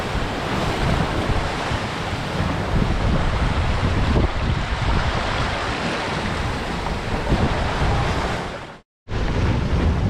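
Strong wind of about 27-28 knots and crashing waves on a solo Mini-Transat sailboat racing toward Barcelona, a loud continuous roar of water and wind buffeting the microphone, with a brief dropout near the end.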